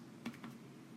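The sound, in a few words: typing an account number on a computer keyboard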